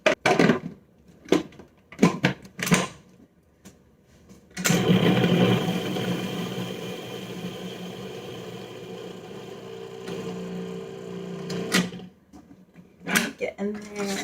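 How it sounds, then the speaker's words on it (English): A food processor whirs through roasted beets on its own, a loud steady motor hum starting midway and running several seconds before cutting off, with speech before and after it. "And so I'm just gonna food process them alone."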